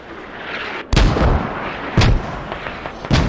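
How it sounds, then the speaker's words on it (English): Mortar fire in a competitive video game match lands as three heavy booms roughly a second apart, each a sharp loud impact over a low rumbling background. "oh there you go, mortars"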